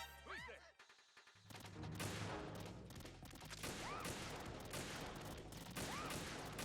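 Gunfire in the Tactical Espionage Action video game: a dense, continuous volley of shots with crashing impacts and ricochet-like whines, loud and steady after a brief opening burst.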